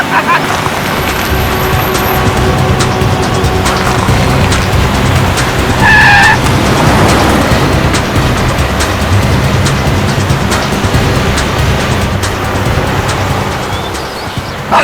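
A car speeds along with a loud continuous engine roar and a brief sharp tire squeal of skidding midway, close and intense throughout.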